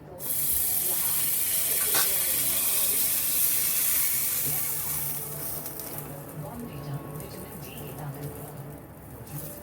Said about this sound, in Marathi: हलकीशी आपण हे पाव भाजून घेऊया थोडेसे